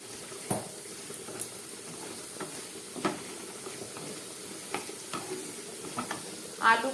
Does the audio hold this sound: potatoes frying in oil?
yes